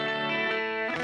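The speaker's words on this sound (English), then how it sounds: "because I've got chorus, compression, reverb, and amplifier simulation all going on to make it kind of sound like this" Electric guitar played through chorus, compression, reverb and amp simulation, a short sustained chord with shimmering, thick harmonics and a wash of reverb, heard alone.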